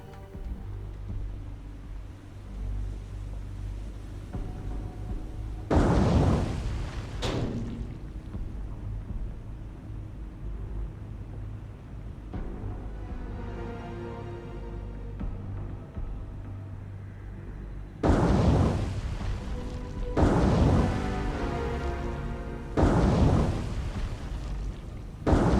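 Torpedo hits exploding against a ship in the naval war game War on the Sea, with two heavy booming blasts separated by rumbling sea and engine noise; one dull explosion early, then a cluster of loud bursts near the end.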